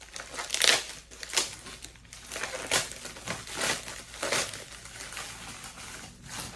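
A Pokémon mystery mail package is opened by hand, with paper and plastic wrapping crinkling and crackling in irregular bursts close to the microphone, moderately quiet and without talk.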